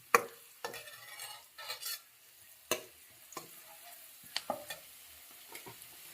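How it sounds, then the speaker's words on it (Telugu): Turmeric sizzles and fries in a pan for chicken curry while a utensil stirs it, giving irregular scraping strokes over a steady low crackle, close and fairly quiet with no voices. "పసుపు వేసి పసుపు కూడా ఈ విధంగా వేగాలి"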